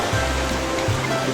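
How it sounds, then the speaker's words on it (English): Water rushing along a mountain stream beneath a handmade black locust log bridge, a steady, full broadband wash close by with no talk over it. "There's the water sound there."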